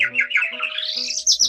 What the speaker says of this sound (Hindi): एक रंग बिरंगा तोता जो कि बहुत ही ज़्यादा सुंदर था